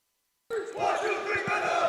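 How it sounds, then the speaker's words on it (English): At a high school basketball game during a timeout, a gym crowd suddenly erupts into loud cheering and yelling after silence, holding a dense roar of voices throughout. "Mendo's cheering"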